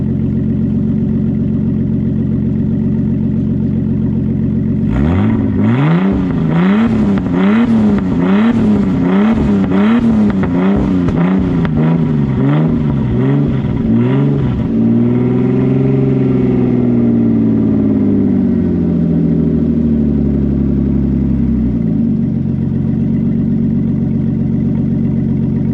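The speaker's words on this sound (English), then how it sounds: "We'll see how it sounds when it revs." A Nissan RB25DET engine on a dodgy straight-pipe exhaust with resonators revs hard in a rapid series of loud, rising-and-falling blips, then holds one long high rev before dropping back to a steady idle, close and with no talking.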